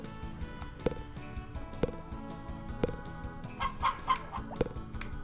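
Chickens cluck and squawk while being fed on a farm in the video game Harvest Moon: Back To Nature, short close calls over regular rhythmic thumps and soft game sounds.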